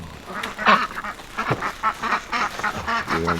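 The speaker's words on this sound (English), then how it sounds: "Here comes the ducks." Several ducks quack near a pool by a greenhouse, a busy run of nasal calls overlapping at close to moderate distance.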